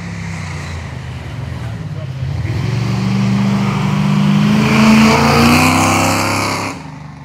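The final Group 1 car climbs the Duryea Hillclimb course at Turn 2. The engine note builds and revs as the car draws nearer, swells to a loud pass, then drops off sharply. A voice speaks over it.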